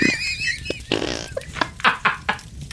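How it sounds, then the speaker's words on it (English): A comic fart sound effect for a dying man: a loud, close, rasping, sputtering blast, then several short spluttering bursts, with no speech. "Master Caecilius let out a final fart and perished."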